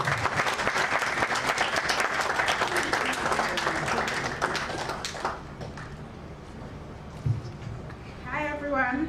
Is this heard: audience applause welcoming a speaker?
yes